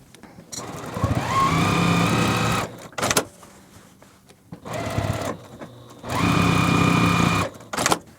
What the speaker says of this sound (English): then we're gonna sew these A pieces right here onto our ends